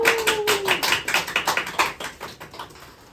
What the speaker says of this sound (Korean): 뜨겁게 환호해 주시길 바랍니다